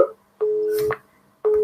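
A telephone busy signal sounds as repeated steady electronic tones in a slow on-off pattern, clear and close, for a call that goes unanswered.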